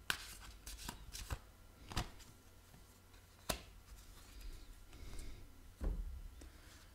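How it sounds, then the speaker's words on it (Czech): Tarot cards being shuffled and laid out on a table, with soft riffles, slides and several sharp taps as cards are set down, close but quiet, with no speech. "Přidám kartu z andělů hvězdného Avalonu."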